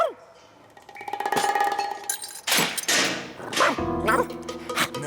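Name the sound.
dog barking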